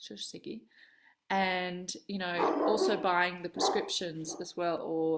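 A dog barks repeatedly and loudly indoors, with sharp yips and whimpering whines, mixed in with someone talking over it.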